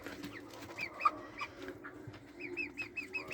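Broiler chickens about 34 days old and roughly two and a half kilos each are clucking and calling in a poultry house. Several birds chirp and cluck at close range, overlapping one another, with a soft rustle underneath.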